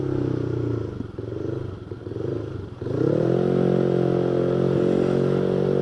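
A Honda Vario motorcycle on a test ride gives a close, loud engine drone. It wavers at first, then rises into a steady, strong, sustained hum. No one speaks.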